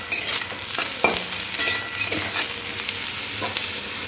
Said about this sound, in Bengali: সব সবজি ভালো করে ভাজা ভাজা হয়ে গেছে